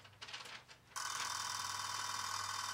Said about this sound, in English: And the phone rings.